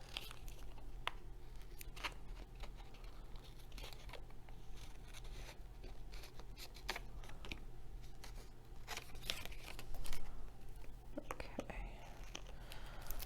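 Washi tape being handled and snipped with scissors while making a bookmark, with close sticky peeling, crinkling and scattered short cuts under a whispering voice.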